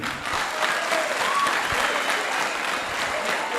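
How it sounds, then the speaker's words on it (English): An audience at a youth conference breaks into steady, dense applause that fills the whole stretch without pause. "Clap for him."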